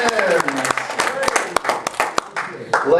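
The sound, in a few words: audience clapping hands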